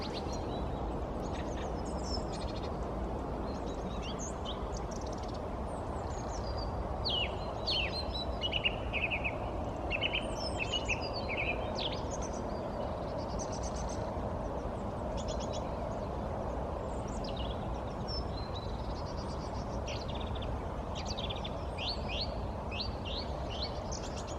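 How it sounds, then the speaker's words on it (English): Several birds chirp and sing in quick bright bursts throughout, fairly distant, over a soft steady outdoor hiss. "I want to stay here and listen to the birds"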